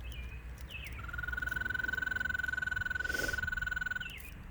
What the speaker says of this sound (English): The call of American toad